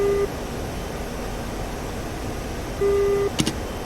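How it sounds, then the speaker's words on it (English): Radar warning receiver in an Su-25T cockpit in DCS World, alerting to a search-mode radar: a steady electronic tone sounds near the start and again around three seconds, over a constant cockpit hiss, ending with a brief click. "you've probably noticed that annoying beeping sound. The sound indicates a detected radar in search mode."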